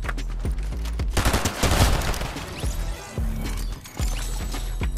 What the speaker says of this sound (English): How'd you like the taste of my Tommy gun?